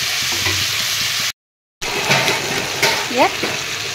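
Meat curry sizzles in a frying pan while it is stirred and turned over, with scraping spatula strokes close by. A short silent break cuts in, and a faint voice is heard briefly near the end.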